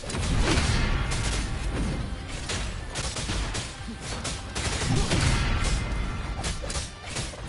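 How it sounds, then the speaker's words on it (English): Mortar and explosive fire in the video game Wuthering Waves, a dense, continuous barrage of booms and crashes layered over game music, with heavier blasts swelling near the start and again around the middle. "Another mortar thrown at us."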